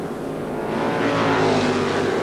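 Formula 5000 racing cars at the 1978 Adelaide 100 roar past on the banking, a loud sustained engine drone that swells slightly as they pass.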